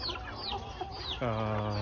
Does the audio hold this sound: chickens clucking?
yes